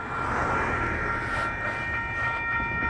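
Southbound empty coal train in the Helper, Utah rail yard, a steady rumbling roar of railcars with a sustained tonal squeal, heard from some distance without pauses.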